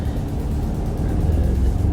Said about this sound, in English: bit of that engine noise that I promised